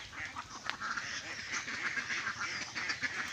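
Ducks beside a creek quacking continuously, several birds calling over one another at moderate distance against a steady outdoor background.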